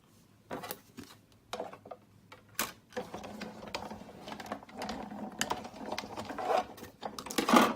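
A Big Shot die-cutting machine runs a Santa Claus card through its rollers, giving a close, steady mechanical cranking and grinding with short clicks and ratcheting bursts that build in loudness toward the end.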